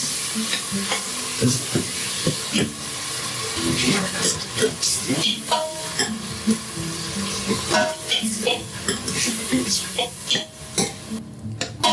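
Chopped tomatoes sautéing in a pan over asafoetida while cooking dhaba-style whole urad (mash) dal: a steady sizzle with repeated scraping and stirring strokes and small clinks of a spoon against the pan, close up and continuous, with no talking.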